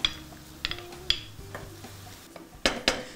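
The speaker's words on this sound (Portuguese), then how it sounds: "E para finalizar, deixar fritar bem, eu vou colocar o tomate." Tomato goes into a frying pan for a mandioquinha broth and is stirred, with sharp utensil clanks and scrapes against the pan over a low sizzle, close up and without talking.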